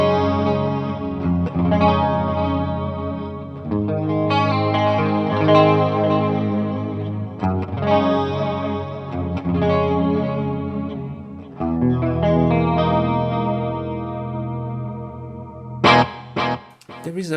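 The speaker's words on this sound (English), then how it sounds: "There is a very annoying metallic tone here. I think it's a reverb." Electric guitar played through a Cuvave Cube Baby multi-effects unit with a metallic, ringing reverb, strummed chords sustaining and decaying in repeated phrases, with a few sharp muted hits at the end.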